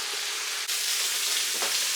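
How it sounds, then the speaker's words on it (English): Buffalo steak searing over high heat in a frying pan, a loud steady sizzle and crackle with a couple of brief shifts as the meat is moved. "for these last couple of minutes we are going to hit it with some hard heat"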